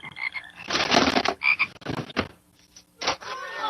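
Frogs croaking in loud, close, raspy bursts, several calls separated by short pauses.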